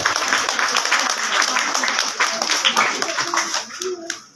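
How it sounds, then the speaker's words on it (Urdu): An audience claps steadily at a prize-giving ceremony for students, a dense continuous patter of many hands lasting several seconds, with voices mixed in. "تالیاں"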